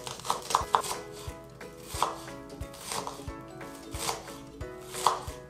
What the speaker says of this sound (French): on va préparer 2 échalotes que vous allez tout simplement émincer